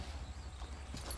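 Horse hooves clip-clop in the video game Far Cry 6, a few quick muffled footfalls over a dense rumbling background, fairly faint and brief with no talk.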